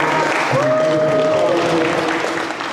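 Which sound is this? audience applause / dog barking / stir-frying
audience applause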